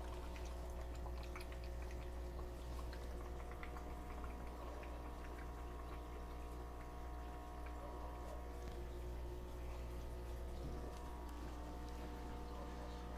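A small garden pond waterfall splashes steadily into the water with a constant low, bubbling rush that never lets up, heard quietly and alone.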